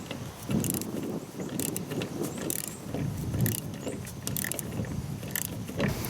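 Socket wrench tightening a shear pin bolt and nut on a Frontier RC2072 rotary cutter mower, giving a steady run of close, quiet ratcheting clicks and metallic turning under low background noise.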